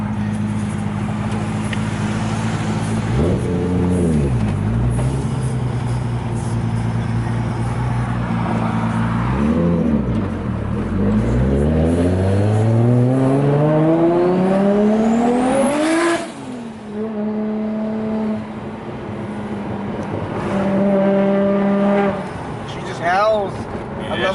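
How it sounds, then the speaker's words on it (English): A Nissan R32 Skyline GT-R engine with an external wastegate revs up and down repeatedly, climbing to a high scream before dropping with a rushing wastegate release, loud and close throughout. "You get that beautiful wastegate opening up"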